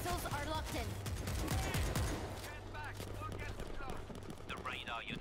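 Automatic turret fire in the World War Z video game, France mission: rapid gunfire bursts crackle through a busy battle mix, with talk running over much of it and a brief tonal sweep near the end.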